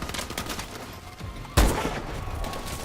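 Sniper rifle fire in the video game Call of Duty: Advanced Warfare, with a rattle of distant shots followed by one loud, close blast that rings out and slowly fades.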